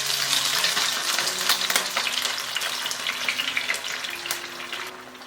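Pork ribs fry in a pan as beaten egg is poured in, giving a bright, crackling sizzle with popping bursts close by that gradually eases and thins toward the end.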